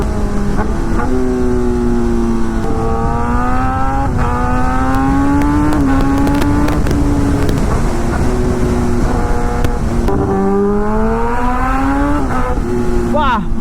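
A Suzuki GSX-R1000 sport motorcycle engine roars steadily, rising and falling in pitch as it revs hard, loud and close, with wind and road noise throughout.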